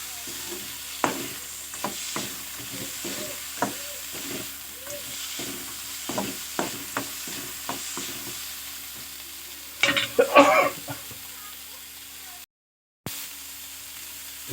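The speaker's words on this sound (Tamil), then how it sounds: "நல்லா கிளறி விட்டுருங்க." Food frying in a pan while being stirred, giving a steady sizzle broken by repeated scraping strokes of the utensil, with a busier clatter of stirring toward the end, close by.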